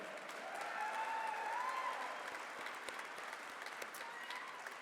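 An audience at the 2024 Preservation Forward main program applauds steadily, a dense wash of clapping with a few cheers and whistles, fairly distant and sustained for the whole stretch.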